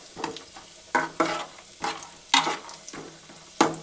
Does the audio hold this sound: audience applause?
no